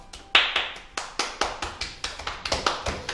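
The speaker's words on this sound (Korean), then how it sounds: "지금까지 잘 활동해준 정말 멋있게 활동해준 소피아 교수 위해서 우리가 다 같이 박수 치고 오늘 방송 마칠게요." A small group on a children's broadcast claps in farewell to a departing member, with about a dozen crisp, evenly spaced claps in a steady rhythm, close and fairly quiet, with no talking.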